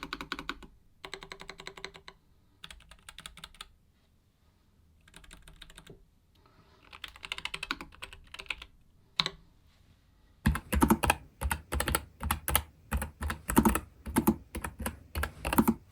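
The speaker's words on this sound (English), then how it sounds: "Let's take a listen and let me know in the comments if you think I made the right choice." Keys of a Nuphy Air75 V2 low-profile keyboard with brown switches are typed in quiet bursts first, then a denser, louder run of rapid, evenly spaced clicks, with no talking.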